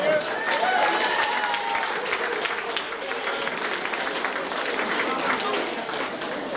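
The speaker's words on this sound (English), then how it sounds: "Peter Mullen, give him a round of applause." Audience at a boxing night in Mayo applauding an award winner, sustained clapping with a faint whistle early and crowd voices murmuring beneath.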